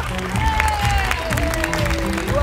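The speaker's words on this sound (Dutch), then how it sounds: "Graag een geweldig applaus voor Lies Seynaven" Applause and some cheering from a crowd welcoming a jury member at a Miss Wellness Beauty pageant, steady and fairly loud, with a voice and tonal sounds running through it.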